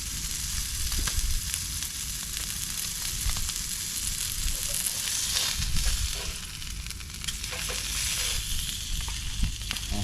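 A burger sizzles and fries in a hot titanium pan at an outdoor beach camp, giving a loud, continuous crackling sizzle up close with a few small stirring scrapes.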